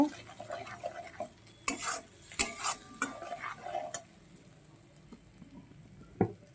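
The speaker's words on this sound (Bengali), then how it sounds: "পরিমাণ মতন হলুদ এবার এটাকে সুন্দর করে কষিয়ে নেব" A spoon scraping and stirring tilapia fish curry with turmeric in a metal pan, irregular clinks and scrapes with soft sizzling beneath, louder metallic knocks clustered early, then quieter stirring and a final clink.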